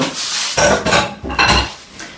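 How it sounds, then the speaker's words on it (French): Pastry cream and almond paste being stirred into frangipane in a bowl, with a utensil scraping and knocking against the dish in uneven bursts, close and fairly loud, no talking. "on mélange notre crème pâtissière et notre pâte d'amande"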